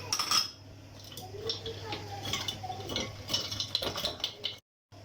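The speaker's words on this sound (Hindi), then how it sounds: "अब मैं आखिर में इसमें बर्फ़ डाल दूँगी" Ice cubes clink and rattle against a glass or jug as they drop into a rose milk drink, a busy run of close, bright knocks that cuts off abruptly at the end.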